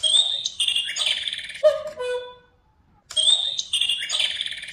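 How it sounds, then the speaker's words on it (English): Mechanical cuckoo clock bird calling out the hour: a burst of bright, tonal chirping and whistled calls, a short pause into near silence, then the bird sounds again, close and fairly loud. "Press the ACT button on the side. This button is used to tell time once"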